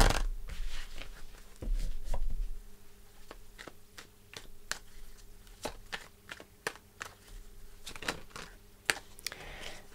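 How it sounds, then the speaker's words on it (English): Tarot cards are shuffled by hand in quick, crisp riffles and taps, a scattered run of sharp, close clicks over a faint steady hum in a quiet room. "I'm just going to shuffle a little bit."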